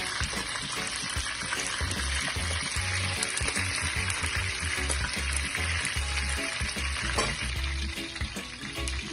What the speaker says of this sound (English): I'll put the next set inside of my oil. You can slowly fry.